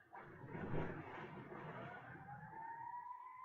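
A siren wails in the distance during a storm, its rising tone drawn out over a steady background rumble of wind and traffic.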